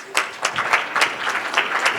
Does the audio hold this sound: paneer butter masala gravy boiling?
no